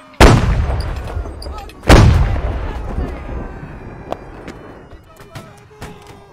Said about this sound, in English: They have artillery in that tree line between those two trees on the left of the ruin.